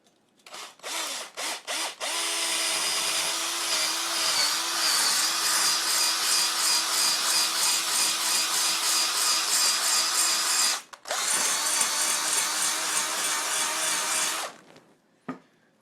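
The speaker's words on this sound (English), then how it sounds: "I think we just need a bit more lubrication because this hone is brand new. It's going to do some scraping." A brand-new hone grinds inside the cylinder of a Honda MB5 engine, a loud, continuous scraping whine from a spinning drill that pauses briefly near eleven seconds before running again.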